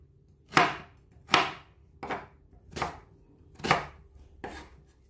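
Onion being chopped on a cutting board for Coke-braised short ribs: six distinct knife strikes at a slow, fairly even pace, close and crisp, with no talking.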